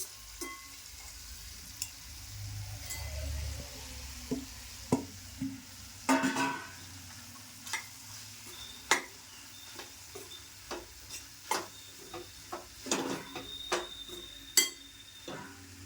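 Capsicum sabji with gram flour being stirred in a hot pan, giving a soft steady sizzle broken by repeated short scrapes and clinks of the spoon against the pan, close and fairly quiet, with no talk.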